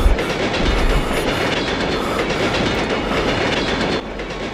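A train runs steadily on its rails with a continuous loud rumble and rhythmic clatter of wheels, heard alone without any voices, as an audio drama sound effect.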